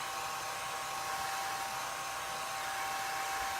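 A hair dryer blows at close range with a steady, even whoosh and a faint high whine, running alone without pause or voices for a few seconds.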